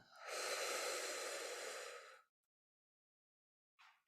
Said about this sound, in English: And you breathe in and exhale.